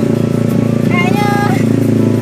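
Motorcycle engine labouring along a muddy road on the way to Riam Ampar Jawa, a steady loud drone running throughout with someone talking over it.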